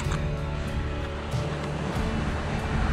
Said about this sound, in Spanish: Están bien fuerte la ola acá.